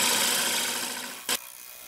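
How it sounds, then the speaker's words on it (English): A close, continuous rasping shear scrape of a tool against a wood bowl spinning on a lathe fades gradually, followed by a brief sharp burst near the end. "Doing a little shear scraping."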